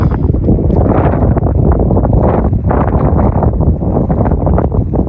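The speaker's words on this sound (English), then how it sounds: "But it is windy." Strong wind at Abraham Lake, Alberta buffets the microphone in a constant low roar, gusting unevenly throughout with no voices.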